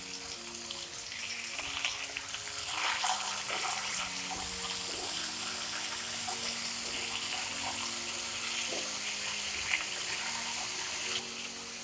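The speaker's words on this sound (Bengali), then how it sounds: "এবার অল্প জল দেব।" Water poured into a cooking pot of white potato curry with peas, a steady soft gushing and hissing that runs evenly throughout at moderate distance, with no voices.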